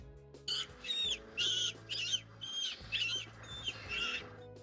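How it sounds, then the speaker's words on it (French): Agitated bird chirps and squawks in several loud bursts, close and shrill, with brief pauses between calls. "il a entendu les piaillements effrayés de la famille d'oiseaux vivant dans ses branches"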